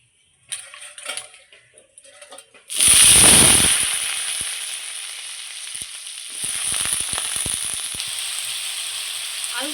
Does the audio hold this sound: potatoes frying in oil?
yes